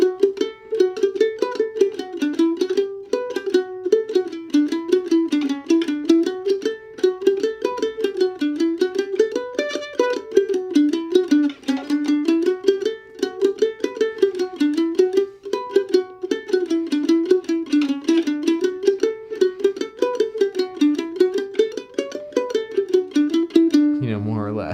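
Mandolin melody played high up the neck, a steady stream of quick bright picked notes in a repeating rising and falling phrase, clear and close, ending with a brief lower note.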